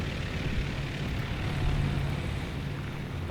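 A P-51A propeller plane in War Thunder roars loudly and continuously, a dense close engine drone holding steady throughout with a slight swell in the middle.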